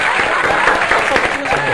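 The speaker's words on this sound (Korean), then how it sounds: "아주 진짜 이상한 박수 한번 예." An audience breaks into brief, loud applause in a television studio setting, a short burst of dense clapping.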